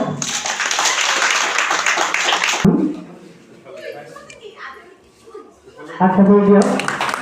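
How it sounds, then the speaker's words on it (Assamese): An audience clapping hands for a felicitation at a village gathering, loud sustained applause for nearly three seconds, then someone speaking over a quieter crowd before another loud swell of voices. "সকলোৱে হাত চাপৰি দিয়ক।"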